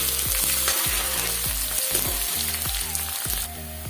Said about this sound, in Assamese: পিঁয়াজখিনি ৰঙচুৱা হোৱালৈকে ভাজি ল'ম